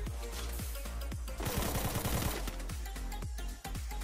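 Rapid gunfire in the battle royale game Free Fire: sharp repeated shots in quick bursts, with a dense fast automatic stretch in the middle, loud and close with no talking.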